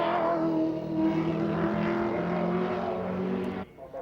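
Bob Morris drives the number 4 John Sands Holden Commodore race car on a timed lap at Mount Panorama, Bathurst, its engine droning steadily and loudly before cutting off abruptly near the end.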